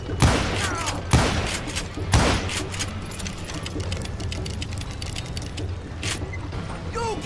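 Video game shootout gunfire: three loud, evenly spaced shots ring out early, followed by a rapid, continuous patter of overlapping fire and one more sharp crack near the end.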